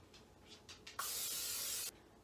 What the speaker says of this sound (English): take your butter and spray your pan.